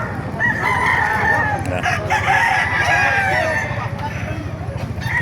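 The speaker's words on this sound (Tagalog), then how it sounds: "Papakita ko sa inyo mga manok dito sa Baliwag mga kamaster" Several roosters crow over a busy background of clucking chickens at a chicken market in Baliuag, Bulacan, close and loud, with a low steady rumble underneath.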